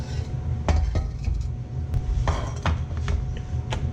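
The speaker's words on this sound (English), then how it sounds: "we're going to put our divide our vegetables up into our 2 serving dishes" Light clinks and taps of stir-fried carrot and burdock vegetables being portioned into two serving dishes, scattered utensil knocks against ceramic over a low steady background hum.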